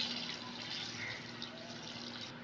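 Water pours steadily from a container into a pot of beef for dum pukht, a quiet, even splashing and trickling that lasts just over two seconds with no speech.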